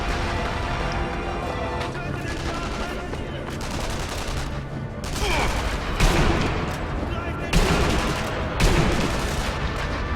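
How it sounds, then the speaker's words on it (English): Rapid, continuous bursts of anti-aircraft flak guns in the Sniper Elite V2 video game, loud layered gunfire with booming reports, overlapping with someone talking. "Are these guns just firing by themselves?"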